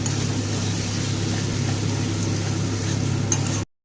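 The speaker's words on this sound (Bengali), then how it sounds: "একই সাথে টমেটোটাকেও ভালো করে মশলার সাথে কষিয়ে নেব।" Tomatoes and ginger sauté with spices in a pan for a low-oil chicken curry, giving a steady, close sizzle that continues evenly with no talking, then cuts off abruptly at the end.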